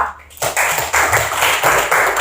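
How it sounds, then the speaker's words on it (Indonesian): Fifth-grade pupils in a classroom clap for the reading group, loud rhythmic group claps in close bursts after a brief quiet start. "Tepuk tangan untuk kelompok membaca."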